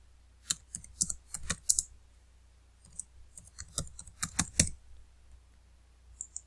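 A computer keyboard is typed on in bursts of quick, close clicking keystrokes with short pauses between, quiet and without any voice.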